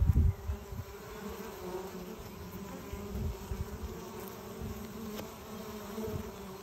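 Honeybees buzz steadily at a wooden hive entrance as foragers return loaded with pollen, a dense close-up drone with no talk over it.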